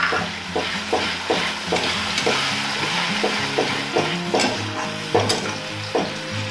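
Medium tomatoes sautéed in a pan with chili paste for a rui posto fish dish, a continuous sizzle broken by rhythmic spatula scrapes and knocks, with a low mechanical hum beneath, and no speech.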